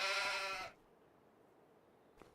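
A sheep at a sheep barn in the Farming Simulator 25 video game gives a single loud, close bleat lasting under a second, followed by quiet ambience and a faint brief sound at the end.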